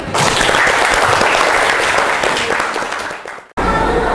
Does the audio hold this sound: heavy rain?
no